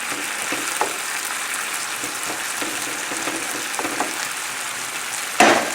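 Tomato sauce with cod simmers and reduces in a pan, giving a steady, close sizzle and bubbling hiss with a few light clinks and a brief louder scrape near the end.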